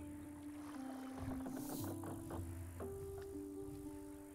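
Sailing boat carrying villagers to the next island in the video game Kingdom Two Crowns: Norse Lands, with a steady creaking, washing rumble under sustained musical tones, no talking.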